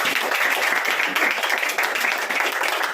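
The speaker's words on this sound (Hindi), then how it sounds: "जोर से ताली बजा दो उसके लिए" A congregation at a religious gathering claps loudly and steadily: a dense, continuous burst of applause close by that lasts a few seconds without a break.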